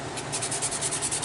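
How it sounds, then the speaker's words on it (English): Steady scratchy rubbing of sanding on the hard resin surface of a 27-inch Tantive IV model kit, close up, in quick repeated strokes with no voices. "when I'm sanding that"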